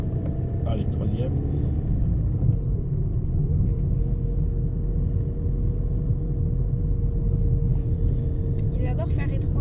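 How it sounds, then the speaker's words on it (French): A car accelerating through an underground parking garage in Metz after shifting into third gear, a steady loud engine rumble echoing throughout, with people talking over it. "Accélère, accélère. Allez, troisième."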